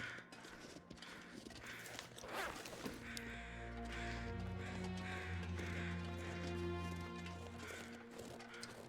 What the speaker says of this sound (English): wait a minute, I hear the crows